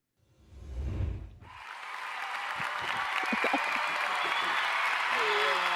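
Studio audience applause welcoming a guest onto a podcast. It starts after a short burst of voice, then builds into steady, loud clapping and cheering that continues to the end, with a faint voice under it.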